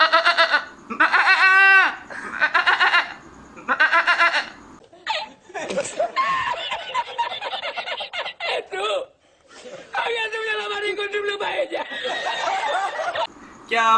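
A man imitates a goat with several wavering bleats, then longer strained bleating calls, interspersed with laughter and chuckles from those around him.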